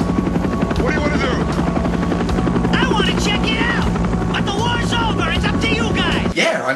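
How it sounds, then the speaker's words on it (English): A film helicopter sets down near a POW camp, its rotor beating in a loud, steady chop that fills the scene, with background music and effects layered over it before a sudden cut. "They decide to land the chopper and investigate the POW camp, where we first meet the titular McBain"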